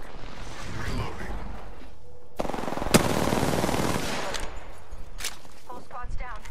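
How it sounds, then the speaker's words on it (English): Bursts of automatic weapon fire in Apex Legends rattle in close and loud, with one sharp crack standing out, as a person talks between the volleys. "Taking fire. And they're hitting me."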